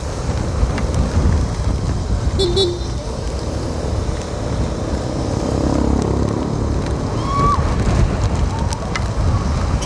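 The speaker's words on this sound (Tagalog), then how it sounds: "meron na pong malakas na hangin na pabugso-bugso" Strong typhoon wind roars steadily into the microphone in buffeting gusts, with a person talking over the rushing noise throughout.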